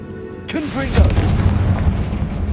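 A Confringo fire-blast spell bursts in Hogwarts Legacy: a brief voice calls out, then a heavy, close boom hits and its crackling rumble trails off.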